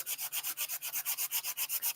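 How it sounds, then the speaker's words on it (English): Colour core cardstock being sanded by hand, a steady run of about fourteen rhythmic rasping strokes back and forth, close and fairly loud, with no talking. "I might have to shout because you're hearing the sanding"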